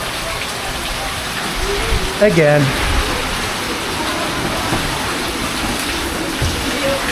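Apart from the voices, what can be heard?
heavy typhoon rain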